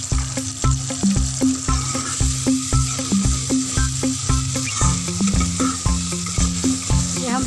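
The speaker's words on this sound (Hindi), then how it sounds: "ये हम प्याज़ों को पकाएंगे अच्छी तरह से।" Onions sizzle in a pan while being stirred, a steady frying hiss broken by a regular series of spatula scrapes and knocks, close and fairly loud.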